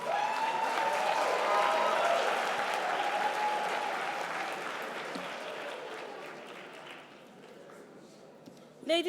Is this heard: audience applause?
yes